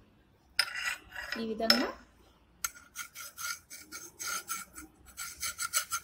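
Repeated rasping scrapes of a screwdriver drawn along the edge of a kathi peeta, a traditional floor-mounted kitchen cutting blade, in quick rhythmic strokes up close, with a short spoken phrase at the start.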